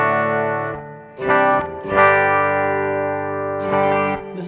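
Electric guitar played through a BOSS eBand JS-10 on its Full Range amp model, modelled on a Roland AC90: sustained chords ring out loud and close, restruck about three times with a bright, slightly effected shimmer, no voices.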